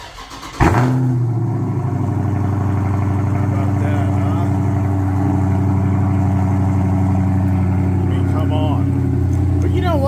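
A Harley-Davidson Breakout motorcycle engine starts with a sharp catch and then rumbles loudly and steadily at close range, its low throb holding throughout.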